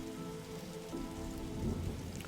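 Steady rainfall pours down in The Darkside Detective game, a soft, dense hiss of drops with a low rumbling undertone, heard alone and at a quiet level.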